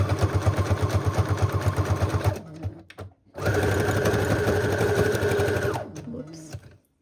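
A sewing machine stitches a junk journal in a fast, steady, close mechanical rattle, stops briefly, then runs again for a few seconds before winding down.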